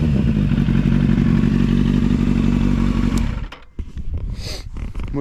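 A Kawasaki Z800 four-cylinder motorcycle engine revs hard and loud at close range for about three seconds, below 5000 rpm, then drops off, leaving scattered clunks and rustling.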